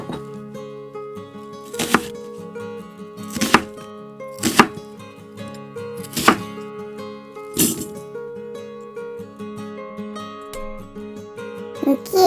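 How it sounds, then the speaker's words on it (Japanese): A knife chops ingredients such as cabbage, onion and thawed shrimp on a cutting board in a quiet kitchen, with about six sharp, distinct thuds at uneven intervals and softer handling noises between them. "すべて食べやすい大きさに切ってください"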